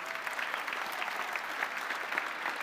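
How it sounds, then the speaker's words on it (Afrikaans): A congregation at a church service claps steadily for the children, a dense, continuous round of applause at moderate distance with no talking over it. "Nou geef hulle lekker aan 'n klap."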